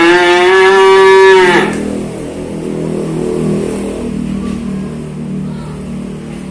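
Limousine cattle calves at close range: one loud, drawn-out moo opens, then a steady low engine rumble with faint background noise carries on to the end.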